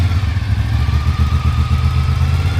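A 1986 Honda VFR 750 F motorcycle engine, left outside seven years with untouched carburetors, runs loud and close on all four cylinders with an even, throbbing idle and a rapid regular pulse, no talking.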